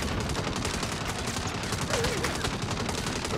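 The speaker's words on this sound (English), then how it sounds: "Is that a Gatling gun?" A Gatling gun fires in the video game Saints Row. The noisy, rapid, unbroken burst of gunfire stays loud for the whole few seconds, mixed with other game noise.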